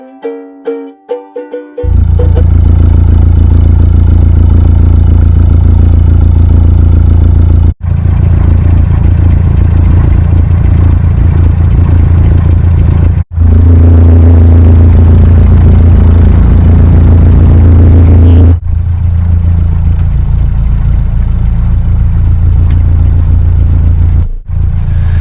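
Boat engines running steadily, a loud continuous low rumble and drone that fills the whole stretch, with a few brief dips and no talk.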